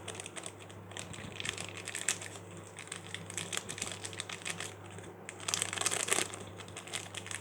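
A half bag of meat spice mix, a stock-style seasoning packet, crinkles and crunches while being handled in a kitchen, with close, irregular rustling throughout and a louder burst of crinkling near the end.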